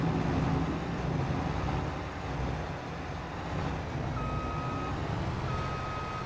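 Reversing beeps from a vehicle in Farming Simulator 22, a steady repeating tone sounding over constant engine and machinery rumble, moderately loud and close.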